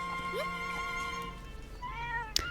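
A cat meows in The Legend of Zelda: Echoes of Wisdom, a few clear tonal mews over soft game music and ambience, with a sharp chime near the end.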